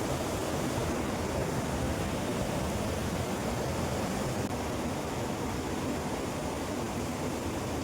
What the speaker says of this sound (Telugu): ఆ సౌండ్ ఎట్లా వస్తుంది, వాటర్ సౌండ్.